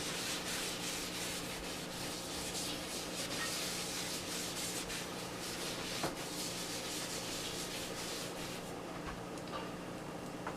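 A gritty cleaner is scrubbed by hand across a dirty spot on an antique 1930 Kohler cast iron sink. The scrubbing is a steady, close, harsh rubbing and rasping that runs continuously with rhythmic strokes.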